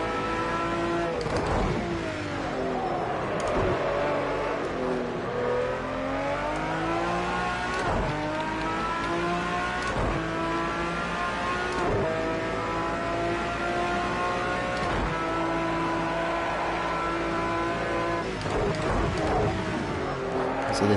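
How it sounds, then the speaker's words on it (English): A V12-engined GT3 race car drives hard, its engine rising and falling through repeated revving and gear shifts, loud and continuous, with occasional tire noise. "So this has the best engine in it, the V12."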